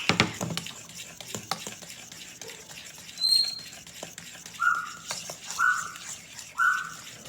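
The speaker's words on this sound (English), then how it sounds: "Just keep stirring it." Pecan pie filling being stirred in a pot, a spoon scraping in soft rhythmic strokes, close and quiet, with a few brief higher squeaks near the end.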